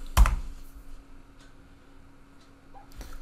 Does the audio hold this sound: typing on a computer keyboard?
yes